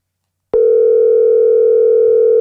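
A steady, loud electronic telephone tone begins abruptly after a brief silence and holds unbroken as a single continuous pitch, with no talk over it.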